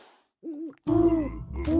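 People imitate an owl's hoot with their voices, giving a couple of short hooting calls, then a longer, louder voiced hoot that fills the rest of the moment, close and clear.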